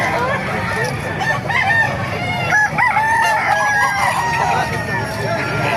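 Several roosters crow with rising and falling calls amid clucking chickens at a busy poultry market in Calumpit, the crows overlapping at moderate distance over a dense bed of crowd noise and murmured talk.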